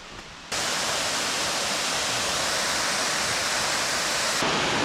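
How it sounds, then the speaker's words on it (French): A small waterfall among rice terraces in Munduk, Bali, gives a steady, dense rush of falling water that starts abruptly and holds evenly for about four seconds, with no voices. "la cascade elle est pas hyper impressionnante"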